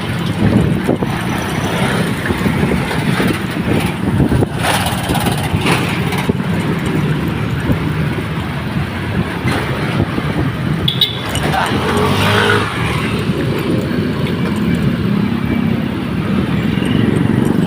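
Cars, trucks and motorcycles on a highway pass close by in a continuous loud rumble of engines and tires, with brief swells as vehicles go past and faint voices now and then.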